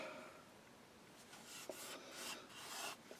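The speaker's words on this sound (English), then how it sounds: "Just needs a bit of all sanding up now," Soft rasping strokes of sandpaper rubbed across a wooden plaque, quiet and close, in a few uneven passes with no speech.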